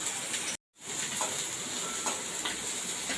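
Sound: dried chillies and five-spice tempering sizzling in hot oil

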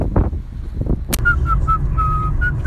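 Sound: whistling inside a car

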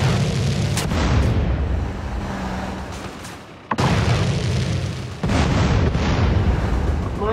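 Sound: cars exploding at roadblocks in video game GTA San Andreas

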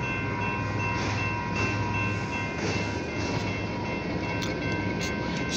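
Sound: OC&T short tanker freight train passing

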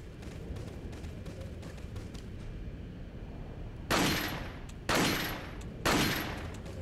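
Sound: pistol shots in the video game Resident Evil 4

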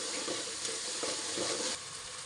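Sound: onion and tomato frying in oil for misal

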